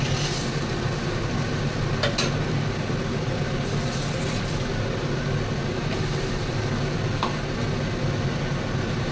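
Mustard-paste gravy for tilapia curry bubbling steadily in a pan, a continuous close simmering hiss with faint pops and a few soft clinks, no voices.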